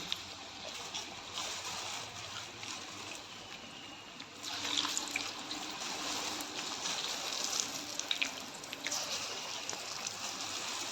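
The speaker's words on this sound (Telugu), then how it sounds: "వడలు చేసుకున్నాం. ఇప్పుడు ఆయిల్లో వేసుకుందాం." Vadas frying in hot oil at home, a steady broad sizzle and crackle that swells louder midway and continues close up without talk.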